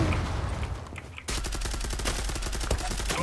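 Gunfire from a gun in the video game Zula, a burst of rapid automatic shots, loud and close, following a short stretch of quieter game ambience.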